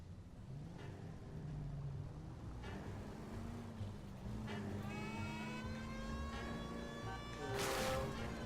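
Car driven in the 1940s Los Angeles crime game L.A. Noire, a steady engine drone with rising whines as it accelerates and shifts, continuous and fairly loud throughout with a brief louder swell near the end.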